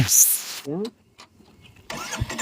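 A motorcycle engine on a Kolli Hills ride runs loudly and close, then sputters and cuts out within a second. A brief voice follows, then near-silence, before a new burst of rough noise returns.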